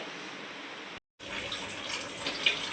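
Water runs steadily from a tap while clothes are washed by hand during home cleaning before Navratri. The splashing is close and continuous, cuts out for a moment, then resumes with a few brighter splashes.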